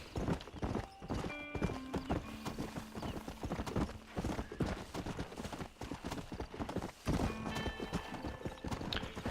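Continuous clip-clop of horse hooves at a steady gallop in the video game Red Dead Redemption, with brief whinnies, loud and close over a busy background.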